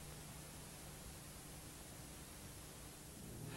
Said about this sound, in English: All she hears is white noise.